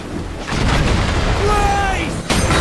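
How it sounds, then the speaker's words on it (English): Ship cannons fire during a naval battle in Assassin's Creed Black Flag, with a heavy, booming burst followed by rumbling battle noise, then a second sharp blast near the end, and a voice faintly audible. "So your front cannons, I think, will be able to keep up with her at least."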